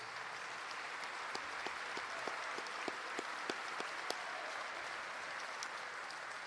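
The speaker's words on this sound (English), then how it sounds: "please give them a huge round of applause" A luncheon audience at a college athletics kickoff event applauds in a steady, fairly distant wash of clapping, with a run of sharper individual claps standing out near the start before it fades into a softer, even patter.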